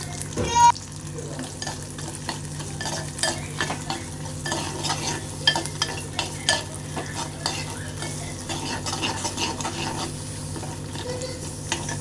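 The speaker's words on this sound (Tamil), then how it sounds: "நம்ம சின்ன வெங்காயம் இதெல்லாம் வெட்டி வச்சுருந்தோம்ல அதை போட்டுக்கோங்க கொஞ்சம் நல்லா வதங்கணும்" Chopped shallots sauté in a pan with a constant close sizzle, a spoon stirring and scraping through them in irregular strokes, plus one sharper clank at the start.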